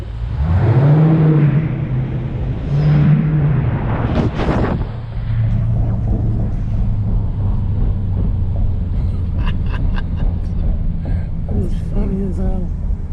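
A Dodge Challenger 392 V8 with MFER mufflers and open baffles runs under light throttle, a loud, deep steady rumble with a couple of brief swells, and someone talks over it near the start.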